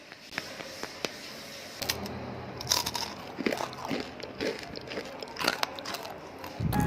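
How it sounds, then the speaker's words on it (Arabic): Crisp vegan high-fiber seed bread being bitten and chewed close to the microphone, a run of sharp, loud crunches repeating irregularly over several seconds with no talking. "بصوا اسمعوا القطعه عامله ازاي، صوتها عامل ازاي، ولا صوت القرمشه يجنن"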